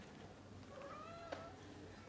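A cat gives one faint, short rising meow with a small click, heard at a distance over a low background hum.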